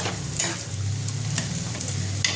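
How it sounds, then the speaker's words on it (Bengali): Spice masala for a stuffed chhana dalna is sautéed in oil, giving a continuous sizzle broken by a few sharp scrapes of a spoon stirring the pan. "এবার এটা আমি তেল ছাড়া অবধি কষিয়ে নেবো, খুব ভালো করে মশলাটা কষিয়ে নেব।"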